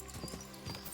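Horse hooves clip-clop at a steady trot in Kingdom Come: Deliverance II, a quick run of rhythmic thuds close by with a faint whinny-like tone over game ambience.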